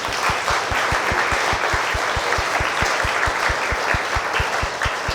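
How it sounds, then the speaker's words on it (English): An audience at a security pitch night applauds everyone who presented, giving a full, steady wash of clapping along with a regular low thumping beat throughout. "Can we get a round of applause for everybody?"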